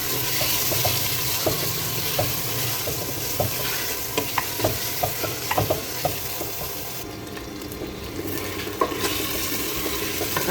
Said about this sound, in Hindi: चिकन को भी थोड़ा हम भूनेंगे